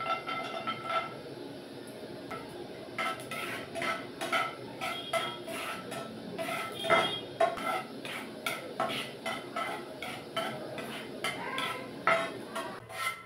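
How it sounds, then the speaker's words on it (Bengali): Cashews fry in hot ghee in a pan for suji halwa: a faint sizzle runs underneath while a spoon stirs and clinks against the pan in irregular, closely spaced taps. "ঘিটা গরম হয়ে গেছে, এবার কাজুটা একটু ভেজে নেব।"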